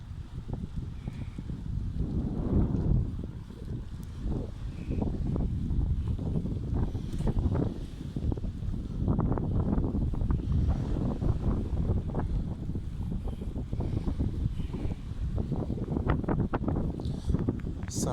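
Strong early-morning wind in Mürefte, Turkey, buffets the microphone in continuous low, rumbling gusts that swell and ease throughout.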